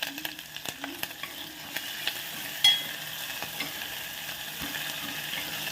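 Curry leaves crackle in hot ghee tempering for mango kadhi, with a soft continuous sizzle, scattered pops and a louder spit near the middle.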